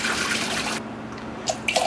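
Rinse water tipped out of a large pressure cooker holding peas for Jamaican rice and peas, a steady close splash and pour that stops abruptly, followed by a few brief drips and trickles.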